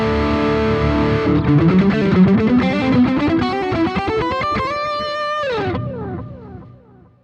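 A distorted electric guitar lead tone through a BOSS GT-1000 with the amp model on plays a fast, rising run of sustained, bending notes. It ends on a held note that fades out, loud and alone, with no talk.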